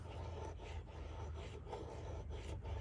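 A knife blade carving feather curls into a piece of wood, a steady close rasping scrape with repeated strokes and no talking.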